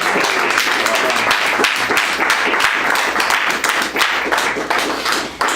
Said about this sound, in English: Let's give Brother James another round of applause.